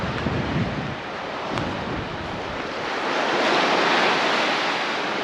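Stormy sea surf breaks on a Crimean beach in a continuous roar, with waves surging and swelling louder toward the end, mixed with gusty wind buffeting the microphone and no voices.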